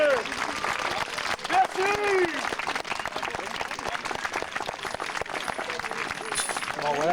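Audience applause for the Dames Noirs performers at a 2012 show, steady broadband clapping throughout at moderate level, with a presenter's voice speaking over it.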